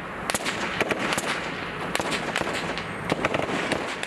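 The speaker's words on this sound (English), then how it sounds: "There's a huge gun battle going on at the moment." Gunfire from a gun battle on the main road into an Iraqi airport, with sharp cracks and bursts arriving in irregular clusters, some near and loud, others more distant, against a constant rumbling background.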